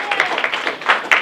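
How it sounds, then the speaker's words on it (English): Applause from a small audience at an August sales meeting, a brief patter of hand claps that is moderately close and fairly loud, with no talk over it. "let's give David a round of applause"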